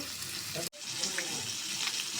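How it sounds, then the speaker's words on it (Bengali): Rui fish pieces frying in hot oil in a pan, a steady close sizzle with a brief cut partway through, no talk. "এখন মাছগুলো আমি সুন্দর করে ভেজে নেব"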